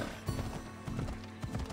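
Hooves clip-clop near a temple in the Assassin's Creed Odyssey video game, a few quick hoofbeats with a horse's whinny, close and fairly quiet over a faint tonal game backdrop.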